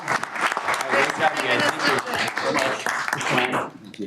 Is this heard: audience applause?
yes